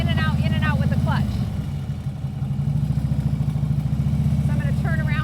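Motorcycle engine on a street ride, its rumble rising and falling as the clutch is repeatedly pulled in and let out, with a brief dip in the middle before the steady throb returns, loud and close throughout.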